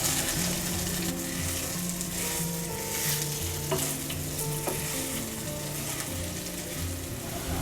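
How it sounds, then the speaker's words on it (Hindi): Sliced radish muthiya crisping in a pan over medium flame, a steady close sizzle of frying that runs throughout, with a couple of faint utensil clicks and no voices. "अब इसमें हम कटा हुआ मुठिया डालेंगे। मिक्स करेंगे और क्रिस्पी होने तक पकाएंगे 3 से 4 मिनट तक।"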